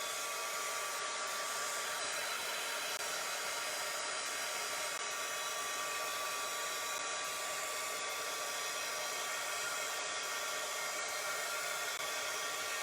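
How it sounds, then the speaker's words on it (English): A hair dryer pressed into service as a heat tool, drying wet craft tags, runs as a steady, loud broadband whoosh for the whole stretch, with no break and no voices. "I gotta take the heat tool to it since I added so much water"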